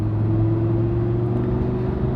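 A Lamborghini Huracan LP580-2 in automatic mode pulls out to overtake another vehicle, its engine giving a steady, loud, low drone with a constant tone and no clear rise in pitch over the short stretch.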